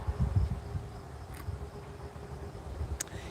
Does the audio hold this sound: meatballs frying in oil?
no